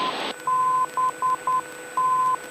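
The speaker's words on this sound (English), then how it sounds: "We verify the Morse code." A navigation beacon's Morse code identifier plays over an aircraft nav radio as clear steady beeps of one pitch, long and short tones in a rhythmic pattern, following a brief burst of static.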